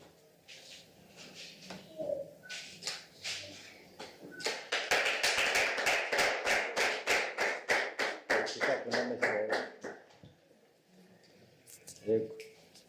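Wedding guests clapping together in a steady rhythmic burst that swells to full loudness, then fades, with voices murmuring before and a few scattered claps at the end.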